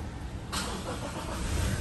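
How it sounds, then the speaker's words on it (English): A Toyota Hilux SR5 engine is started: a burst of cranking and ignition kicks in after a short quiet stretch and settles into a steady, close idle rumble without any talk. "Just going to jump inside the car, turn it on."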